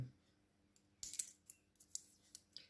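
Scissors cut paper while a scrapbook album is being assembled. There is a quiet pause, then a run of sharp, close snips and clicks in an irregular rhythm, with no talk.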